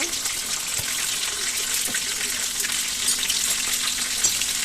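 Slit green chillies and curry leaves crackle in hot oil for a tempering, a steady close sizzle with faint stirring, running unbroken throughout.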